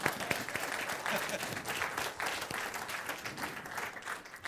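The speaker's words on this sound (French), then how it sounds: "J'en vois qui veulent applaudir, mais lâchez-vous lousse." Applause from the audience at an education panel discussion, steady clapping of moderate density lasting a few seconds, fairly quiet and heard from across the room.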